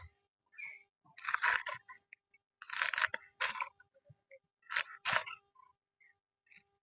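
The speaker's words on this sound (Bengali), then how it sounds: "আমি বাঁধাকপিটা কেটে নিচ্ছি।" A knife cuts cabbage into thick pieces on a board, producing close, crisp crunching strokes in three clustered bursts with short quiet gaps between them.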